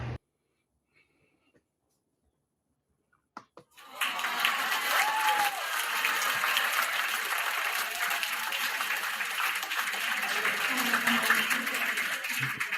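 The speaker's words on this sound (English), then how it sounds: "The reason why I'm applauding" One person claps in a quick burst and then steady crowd-like applause rises after a short quiet gap, continuing loud and dense to the end.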